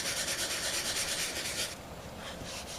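Hand sanding of Bondo body filler as it is feathered in, a close, rough rubbing rasp in quick repeated strokes that lightens partway through.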